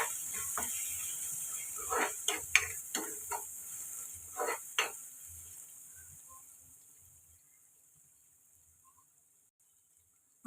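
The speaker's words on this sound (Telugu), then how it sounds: "ఒక నిమిషం పాటు ఫ్రై చేసుకున్నాం కదండి మసాలాలన్నీ." Spices frying in a pan for Andhra-style fish curry, a soft sizzle broken by scraping stirring strokes over the first five seconds, after which the sound fades toward near-silence.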